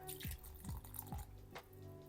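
Water pours in a few quick splashes and drips into a bowl, soft and close, with small pauses between the pours.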